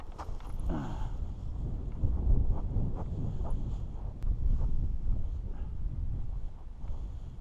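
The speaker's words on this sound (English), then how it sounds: "Yeah, it's still a little gusty." Gusty wind buffets an open-air microphone at a parajet flying field, a continuous low rumbling roar that swells and eases in bursts, loud and close, with no speech over it.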